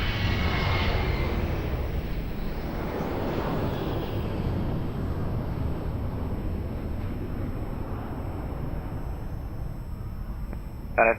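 Jet engine roar from an airliner on its takeoff run at Lisbon Airport, runway 02, a broad steady rumble that is loudest at the start and eases slightly, heard without talk.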